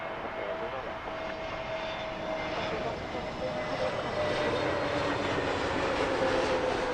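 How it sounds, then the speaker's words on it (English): Airliner landing at Heathrow Airport, a steady broad jet roar with a faint whine held throughout, moderately distant and continuous, with people talking faintly underneath. "That was a lovely landing, wasn't it?"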